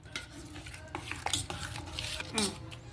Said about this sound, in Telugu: పసుపు, ఉప్పు, కారం, ధనియా పౌడర్, 2 స్పూన్ల పెరుగు. ఇప్పుడు కలుపుకోవాలి.